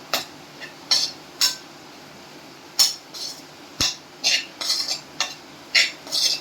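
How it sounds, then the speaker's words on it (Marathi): Masala green chillies stir-fried in a pan: a low, faint sizzle under a dozen or so sharp spatula clinks and scrapes against the pan in uneven bursts, close by and without talk. "आणि हे पण आता छान असं परतून घ्यायचं आहे."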